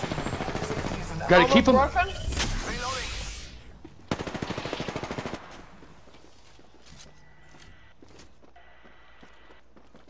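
Sniper and automatic gunfire in the battle royale game Apex Legends, dense bursts of shots with a sharp crack near the middle, mixed under excited voices, then quieter fainter rattling toward the end.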